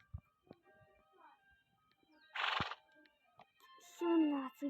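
A horse whinnies in a video game, a short bright burst followed later by a longer descending neigh, with scattered clicks and faint background noise between them.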